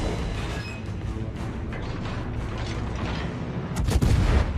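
Naval guns on the cruiser Yorck in World of Warships, with a continuous mechanical rumble and clatter throughout and a deep booming blast near the end; no talk.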